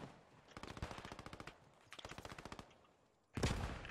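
German machine gun in the Post Scriptum video game fires two sustained rapid bursts of evenly spaced shots, followed by a louder, denser burst of gunfire at the end, with no talk.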